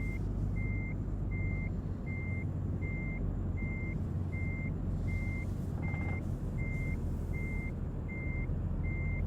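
In a trucking video game, a truck backing a trailer into a spot between other trailers sounds a regular reversing beep, evenly spaced and steady over a continuous low diesel engine rumble.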